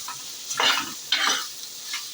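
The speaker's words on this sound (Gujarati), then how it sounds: "બધું મસાલા મિક્સ કરી દઈશું" A spoon stirs spices into okra in a pan, giving two or three brief scraping strokes over a soft, constant sizzle.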